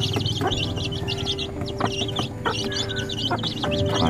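A flock of chicks keeps up rapid, overlapping high chirps and peeps as they peck in a rural yard before dawn, close and continuous, with soft clucks and pecking taps underneath and no talking.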